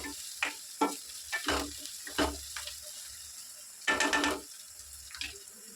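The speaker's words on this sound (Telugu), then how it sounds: "పచ్చిమిరపకాయలు వేసుకొని ఇట్లా బాగా వేసుకోవాలి ఇవి కూడా కొంచెం వేయాలి ఫ్రై అయితే బాగుంటుంది" Green chillies and onions fry in a pan and get stirred, with bursts of sizzling and clattering scrapes of a spoon between quieter stretches, close by.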